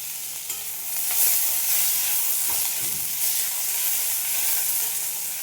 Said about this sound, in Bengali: পেঁয়াজ ভেজে নেব। এর সাথেই রসুন দিয়ে দিলাম।